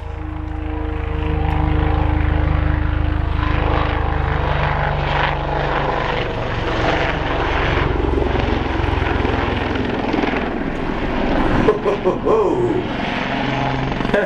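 A Royal Navy Lynx HAS3 helicopter flies at an airshow, its loud rotor chop and turbine roar filling the air close by.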